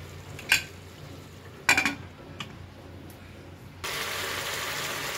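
A metal lid goes onto a pot of chicken curry with potato and papaya: a light clink, then a louder rattling clatter and a faint tick, followed by a steady sizzling hiss from the covered pot.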